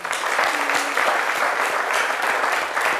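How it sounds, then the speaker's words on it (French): A studio audience on a French daytime talk show applauds to welcome a guest, steady and dense clapping that holds evenly at full strength for a few seconds. "Flora aussi, qu'on va accueillir avec des applaudissements"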